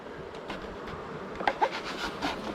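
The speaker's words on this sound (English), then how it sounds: "I just about ate a bee there." Honey bees buzz around an open hive during a spring inspection, a faint, continuous drone with a few louder passes close by.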